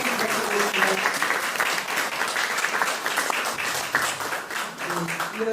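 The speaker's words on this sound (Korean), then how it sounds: "다시 한번 뜨거운 격려 박수 부탁드리겠습니다." An audience applauds a Democratic Party candidate at a party leadership meeting held at a peace observatory on Ganghwa, with continuous clapping mixed with voices over the course of a few seconds.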